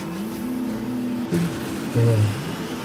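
Motorcycle engine from a Metroid game trailer shown in a Nintendo Direct, a steady mid-pitched drone that briefly swells twice, as if revving, with game-like sound effects mixed in.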